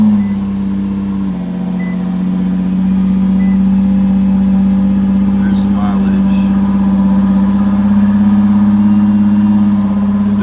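A 2017 Nissan GT-R engine fires and settles into a steady, loud, close idle with a strong low drone, a brief shift in pitch early on as it catches.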